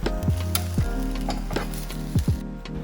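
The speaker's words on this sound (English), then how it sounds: "Cook over medium-high heat until the beef is brown and the mushrooms are" Beef and mushrooms for Korean japchae sizzling in a hot pan over medium-high heat, a loud continuous fry with repeated scraping and clanking strokes of a utensil against the pan; no speech.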